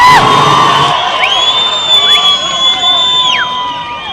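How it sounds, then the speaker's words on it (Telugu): A large crowd at a political public meeting in Gadwal cheers and whoops loudly throughout, with shouts rising over a steady roar of many voices; clapping is hard to pick out. "గట్టిగా చప్పట్లు కొట్టండి"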